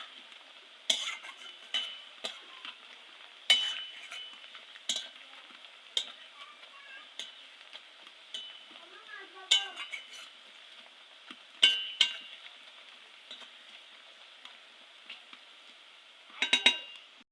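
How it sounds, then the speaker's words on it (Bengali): Katla fish frying in a pan hisses with a soft, steady sizzle, broken by sharp scrapes and clinks of a spatula against the pan, close and fairly quiet, no talking. "লাল লাল করে ভেজে নেব। লাল লাল করে ভেজে নিলে পরে খেতেও ভালো লাগে"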